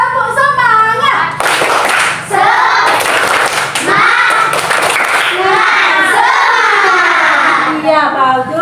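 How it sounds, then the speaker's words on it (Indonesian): Primary schoolchildren in an Indonesian classroom do tepuk semangat, bursts of rhythmic group clapping mixed with loud chanting children's voices, close and energetic. "coba kita tepuk semangat dulu biar tetap semangat"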